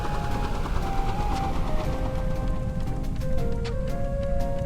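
Ship cannons fire in a dense, rapid volley from an airship in the video game Black Skylands, the booms blurring into a continuous crackling barrage with tonal game music running underneath.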